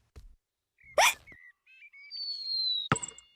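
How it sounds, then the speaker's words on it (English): A cartoon piglet character hiccups in a short sharp burst, followed by squeaky whistling and chirpy cartoon sound effects and a second sudden hiccup near the end, all quiet and close. "George's hiccups are spoiling the game"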